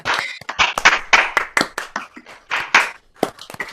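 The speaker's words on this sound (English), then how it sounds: "let them give you a massive big round of applause" A handful of people clap at an online folk club night, uneven individual hand claps with distinct sharp strikes, close and fairly sparse rather than a dense crowd.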